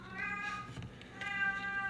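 Domestic cats meow twice in the background indoors, moderately loud, with no talking over them.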